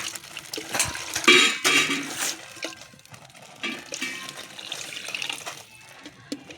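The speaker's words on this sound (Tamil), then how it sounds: "இப்போ தண்ணி ஊற்றிக்கலாம்." Water is poured into a cooking pot holding carrots for a mixed rice dish, with splashing bursts and trickles, some clatter of the pot and quieter gaps in between.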